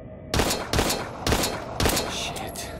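Pistol gunfire in the video game Daymare: 1998 during a sewer level, four loud, sharp shots spaced roughly half a second apart, each with a short echoing tail.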